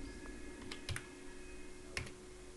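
A computer keyboard is typed on quietly and fairly close, with sparse clicks that come in small bunches and two sharper keystrokes standing out against a soft background hum.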